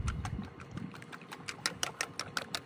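Six eggs are beaten by hand in a bowl at a desert campsite, a run of quick, light clicking taps that grows steadier and sharper, fairly quiet and close, with no talk.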